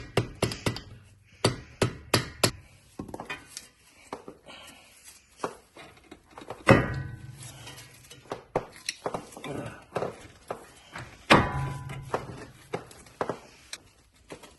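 A rubber mallet strikes the CV axle of a 2003-2008 Honda Pilot, front passenger side, to drive it out of the steering knuckle. Sharp, close knocks come in uneven bursts with short pauses between blows.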